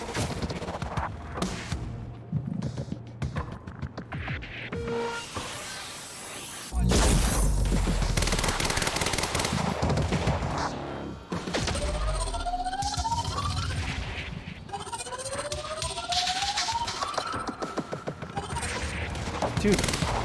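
Sniper and automatic gunfire in the shooter game Quantum Break, dense and continuous bursts with sharp impacts over rumbling background action and whooshing effects, no talk during the fire.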